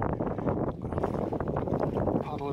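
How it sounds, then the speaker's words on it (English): Wind buffets the microphone with a steady low rumble while kayaking on Wastwater lake, mixed with sloshing water and faint voices in the background. "it's getting a bit windy again"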